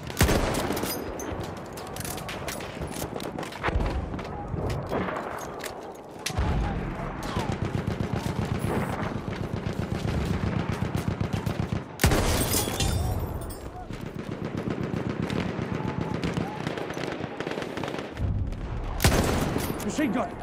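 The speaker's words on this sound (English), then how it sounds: "Machine gun, one of theirs." Rapid machine gun fire rattles through a Battlefield 1 firefight in long bursts broken by short gaps, with booming impacts mixed in and a voice talking over the combat.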